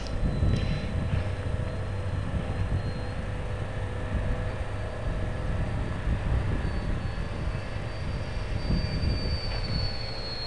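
A GWS Me109 RC warbird model plane drones steadily overhead on a windy day, its engine whine rising and falling in pitch over constant wind rumble.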